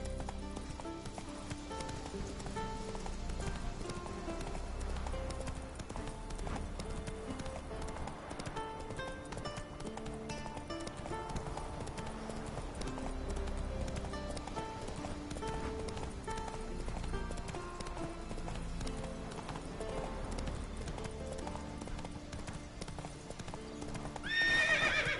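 Roach the horse gallops with steady rapid hoofbeats throughout in The Witcher 3 on PS4, a continuous clip-clop under game music, with a whinny near the end.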